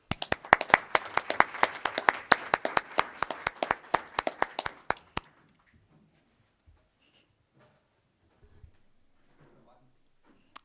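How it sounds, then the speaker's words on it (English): Brisk applause from an audience honoring student athletes at a school board meeting, a dense run of claps for about five seconds that stops abruptly, followed by near silence with faint shuffling and a few soft voices. "Let's give them both a warm round of applause"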